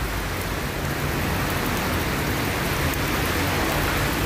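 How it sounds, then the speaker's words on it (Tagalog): Heavy rain pours at Tamar Park in Hong Kong, a dense, unbroken hiss that sounds close and loud from start to finish, with no voices. "Ang lakas kasi ng ulan eh."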